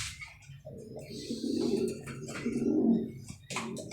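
Pigeons in a racing loft, with soft low cooing and rustling that swells through the middle and stays close and steady, with no talk.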